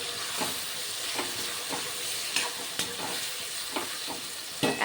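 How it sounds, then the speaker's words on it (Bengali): Chilli cauliflower with tomato sauce stirred in a frying pan, a soft steady sizzle broken by repeated scraping strokes of the spatula against the pan. "ভালো করে নেড়ে চেড়ে নিচ্ছি।"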